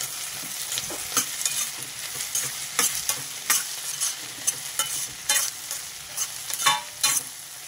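Onions frying with green chillies and curry leaves in a pan, a steady close sizzle punctuated by repeated sharp scraping stirs of a spatula in an uneven rhythm.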